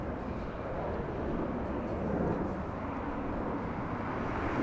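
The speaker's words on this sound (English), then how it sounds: "Clear for takeoff. Breeze Airways. An Airbus A220." Breeze Airways Airbus A220 taking off: a broad, steady jet roar that swells slightly in the middle, heard from a distance with no voices.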